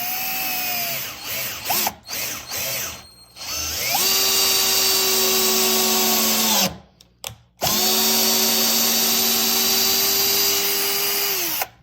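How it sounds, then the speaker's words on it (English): Topshak TS-ED3 20V cordless drill/driver sinking a 2-inch screw into solid oak: loud, steady motor whine in two long runs separated by short pauses and brief trigger blips at the start. "let's do some screws into some solid oak with this and see how it works"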